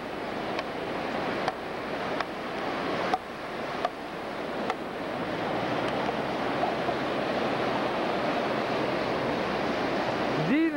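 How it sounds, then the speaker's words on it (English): Surf washes continuously onto a beach in Israel, a loud broadband rush mixed with wind buffeting the microphone and a few sharp clicks, with no voices. "the nice, quiet calm of the beach"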